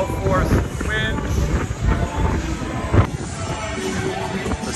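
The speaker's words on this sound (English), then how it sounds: "It is very, very windy. Gale force, wind." Strong gale-force wind buffets the open deck of a cruise ship, a steady loud roar with gusty microphone rumble throughout, while a voice talks over it.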